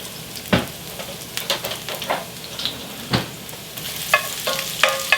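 Five cloves of garlic frying in olive oil over medium heat, a soft steady sizzle with occasional crackles and the clink of a utensil stirring the pan, close and alone.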